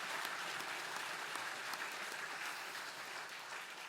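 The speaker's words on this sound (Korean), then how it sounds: "뜨거운 환영과 축복의 박수 보내겠습니다" A church congregation gives a dense round of applause welcoming students, steady and even throughout, heard from a distance at low volume.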